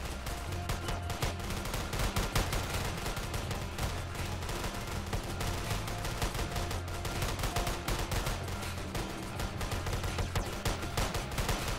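Continuous rapid gunfire in the crime shooter game A Thug's Ascension, dense bursts of shots layered over a steady low game soundtrack, loud and unbroken throughout.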